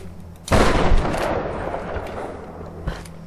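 A shotgun blast in the Tomb Raider video game: one loud, sharp boom with a long rumbling decay, followed by a softer second report near the end.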